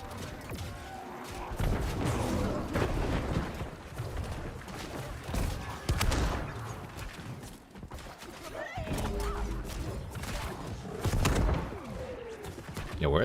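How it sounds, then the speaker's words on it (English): Explosions in a video game come as repeated heavy booming bursts spread across several seconds, loud over constant game noise, with faint talk in places. "where are these explosions coming from?"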